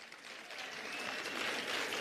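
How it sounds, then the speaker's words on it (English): Audience applause at an ANC political meeting, a steady wash of many hands clapping that builds slightly, fairly quiet and distant. "Let's give Comrade Tandi, our chair, a big round of applause"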